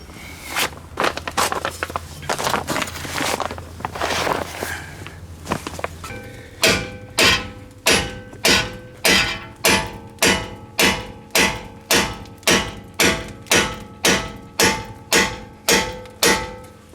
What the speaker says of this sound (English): it took a lot of pounding with a big hammer to get that out